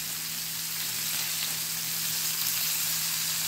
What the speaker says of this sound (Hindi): हमने ये जो पनीर मैरिनेट किया था वो इसके ऊपर रख देंगे। गैस की फ्लेम बिल्कुल मैंने फुल रखी है